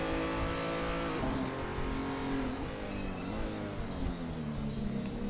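BMW 235i race car lapping Hockenheimring in a racing video game, its engine droning and revving steadily with tonal gear shifts, plus faint tire noise as it slides through a corner, with no voices.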